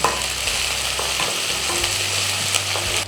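Garlic, ginger and curry leaves sauté in a hot pan for tomato chutney, giving a steady crackling sizzle with a few soft stirring clicks and no talk.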